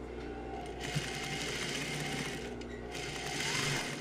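A sewing machine runs steadily, stitching a straight seam 1 cm from the edge while joining flannel pajama pieces: a continuous close, fast mechanical whir that swells slightly toward the end, with no voices.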